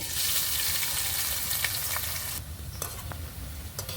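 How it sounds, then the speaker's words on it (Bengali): Sliced onions sizzle loudly in hot oil in a kadai, a dense continuous frying hiss that drops to a softer crackle partway through, with a few sharp stirring clicks near the end. "এই পেঁয়াজগুলো ভেজে বেরেস্তা তৈরি করে নেব"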